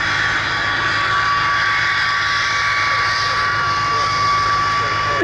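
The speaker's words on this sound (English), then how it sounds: "they're all going to come back and land on the grass" First World War display aeroplanes drone overhead as they return to land on a grass airfield at a summer airshow, a continuous, fairly loud engine tone holding steady throughout.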